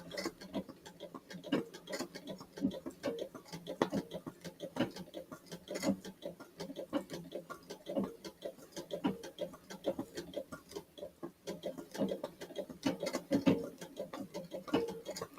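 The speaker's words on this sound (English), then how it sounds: "I hear the bobbin not catching" A sewing machine runs with a fast, steady ticking clatter while its bobbin fails to catch the thread, fairly faint and without voices.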